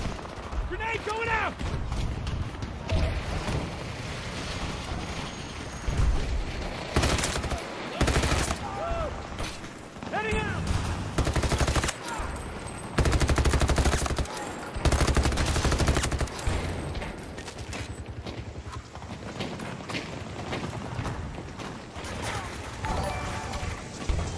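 Rapid bursts of gunfire crackle through a Battlefield 2042 multiplayer match, with automatic weapon fire, sharp repeated shots and loud blasts arriving in clusters over game sounds and occasional talk.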